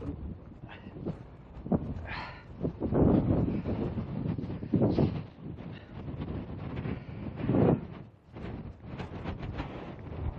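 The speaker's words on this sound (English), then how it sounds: "incredibly windy" Strong gale wind on a coastal headland buffets the microphone in heavy, rumbling gusts that rise and fall throughout, with no other clear sounds.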